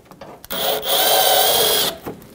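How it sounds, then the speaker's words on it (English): Headlight bolt on a 2007-2017 Jeep Patriot turned out with a 7mm socket, one loud close whirring burst lasting over a second, framed by small clicks. "To remove it, you're going to take your 7mm wrench or socket, and you're going to get up in there."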